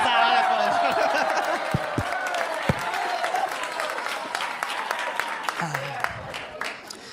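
Audience applause at a stand-up comedy show, a dense burst of clapping that gradually thins and fades, with a few sharper claps and laughter mixed in and a voice speaking through it.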